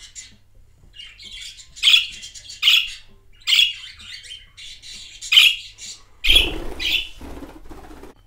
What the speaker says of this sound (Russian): где говорят другие попугайчики.